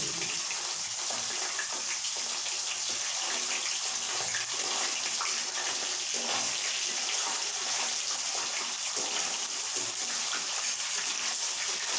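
Paneer pieces frying in well-heated oil for paneer butter masala, giving a steady, loud, close sizzle and crackle that runs evenly throughout with no speech.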